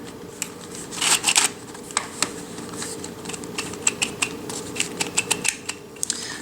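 Small 3D printed plastic sliding puzzle pieces click and clatter as they are pushed along, a scattered series of light, close taps and short scrapes with brief louder bursts.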